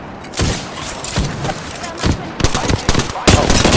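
Rapid automatic gunfire from the battle royale shooter Apex Legends rattles in dense, loud bursts, with heavier thumping shots mixed in and a voice speaking briefly over the fight.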